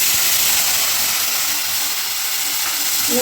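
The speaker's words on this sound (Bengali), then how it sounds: "মশলা কষানো হচ্ছে, এই দেখুন তেল বেরিয়ে গেছে" Ginger, green chili and cumin paste sizzles in hot oil in a pan, a steady broadband hiss that stays loud and even throughout, with no talking.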